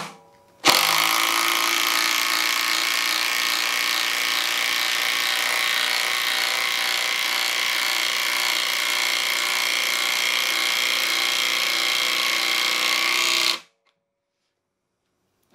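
A Black & Decker Matrix drill, a brushed cordless model, whirs steadily and loudly at close range for about thirteen seconds while driving a screw into wood, then stops abruptly.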